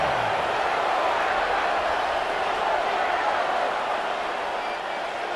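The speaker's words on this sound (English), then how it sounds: "This crowd into it now as we get to 3rd down." A stadium crowd in Madden NFL 26 roars in a steady, dense wash of noise ahead of a third-down play, continuous and fairly loud throughout.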